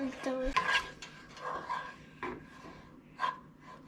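A spatula scrapes and stirs scrambled egg in a pan, giving a few short scraping and clinking strokes at irregular intervals, close and moderately loud, with no talk over them.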